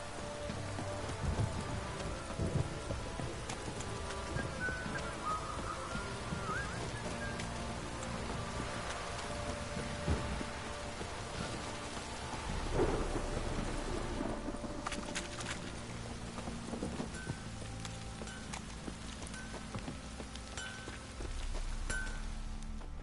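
Steady rain patters and hisses without a break in The Witcher 3: Wild Hunt video game, with a few faint clinks and a low rumble of thunder swelling briefly near the middle.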